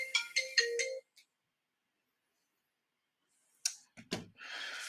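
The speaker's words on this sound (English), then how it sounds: "There's actually a phone call from an editor at 8:30 at night" A phone ringtone plays a quick melodic run of electronic tones for about a second, followed by silence and then some clicks and handling noise.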